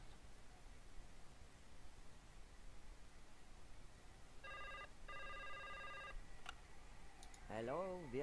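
An office telephone in the game Broken Sword 5 rings in two short electronic bursts over a quiet background hiss, and then a voice starts up.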